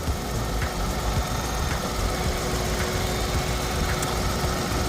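A 2015 Kia All New Morning compact car engine idles with a steady, even rumble and faint rhythmic ticking, close by and continuous, with no voices.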